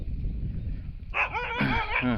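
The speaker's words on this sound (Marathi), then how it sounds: "हे आपले शेतात राखत राहतात कुत्रे" A dog that guards a farm field barks and yips nearby, a short burst of several excited barks breaking out over a low rumbling outdoor background.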